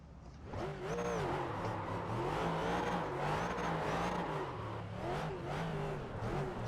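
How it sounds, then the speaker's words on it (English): A V8 supercar engine in the iRacing game revs hard and close, its pitch climbing and dropping in several throttle blips over a continuous loud roar. "Oh, V8 supercar. That sounds mighty good."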